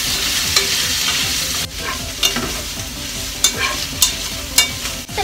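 Mushrooms and vegetables are stir-fried in a pan for a whole pumpkin gratin, a continuous sizzle broken by repeated scraping and clacking strokes of a utensil, close and fairly loud, with no talking.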